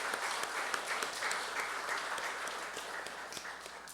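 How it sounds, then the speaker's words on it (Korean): An audience applauds at an ancestor liberation and blessing ceremony in a Taiwan sanctuary, a full, even round of clapping from many people with a few sharper claps standing out, continuing steadily throughout. "귀한 말씀을 주신 참 아버님께 박수를 보냅시다."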